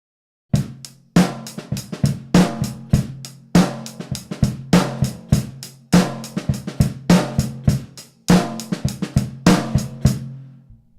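A snare drum pattern of sharp hits interleaved with quieter, rapid ghost notes between the beats, repeating in a steady looping groove.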